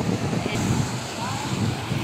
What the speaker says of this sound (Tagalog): Yung ingay ng tubig.